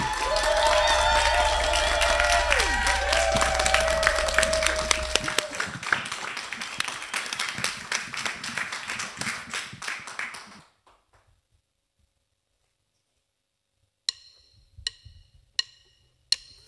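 An audience claps and cheers at a music festival, dense applause with crowd noise and a few tonal sounds, thinning out and stopping after ten seconds, followed by silence and a few isolated sharp taps.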